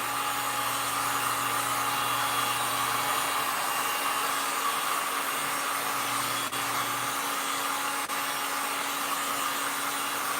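A heat gun blowing on mixed media artwork, a steady, loud, unbroken whooshing hum with a constant motor whine that holds unchanged from start to finish, with no talk.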